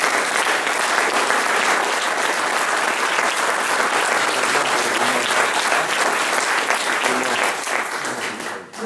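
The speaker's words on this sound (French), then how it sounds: "que vous pouvez d'ailleurs applaudir ce soir" Loud, sustained audience applause at a political speech in Clamart, a dense crowd clapping continuously for nearly nine seconds before starting to fade at the very end.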